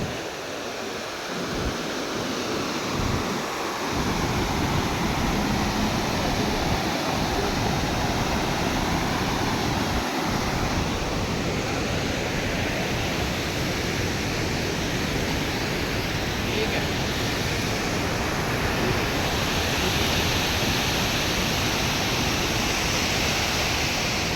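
Waterfall in the Andhra region, a loud, dense broadband roar of falling water that fills the scene continuously, with a few wind buffets on the microphone at the start.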